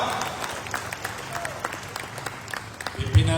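A crowd claps steadily throughout at a Malaysian political gathering, a dense patter of many hands at moderate distance, ending with a louder thump.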